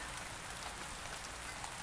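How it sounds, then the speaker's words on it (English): Steady rain effect with a dense, even hiss of drops falling on a surface, continuous and unbroken throughout, with no voices over it. "I will add rain sounds in post to pretend it's raining"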